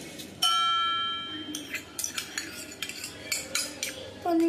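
A spoon mixing ingredients in a metal pot, opening with a ringing clang and then a series of quick scraping and knocking strokes against the pot, close and moderately loud, ending on another ringing tap.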